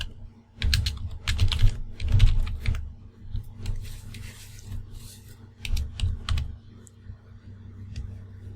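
Keys on a computer keyboard clack in quick bursts as a search is typed into the Windows start menu, with close, crisp taps, short pauses and a few scattered clicks.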